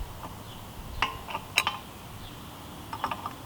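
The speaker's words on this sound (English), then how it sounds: "just a simple rotation of your wrench." A wrench rotates and ratchets in a tight space while a Porter-Cable air compressor is being repaired. It gives a few short, close metallic clicks in small bursts, with quiet pauses between.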